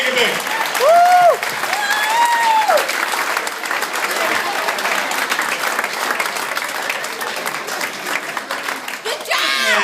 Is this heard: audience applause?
yes